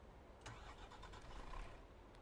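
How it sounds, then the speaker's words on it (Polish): A truck engine starting up in Euro Truck Simulator 2, a brief cranking burst followed by a steady low engine rumble settling into idle, close and alone. "Włączamy silnik."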